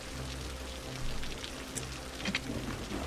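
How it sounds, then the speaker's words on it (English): Steady rain with a thunderstorm in the city-building game Cities: Skylines, a constant even wash of drops with a low rumble beneath, no voices. "Big thunderstorm here."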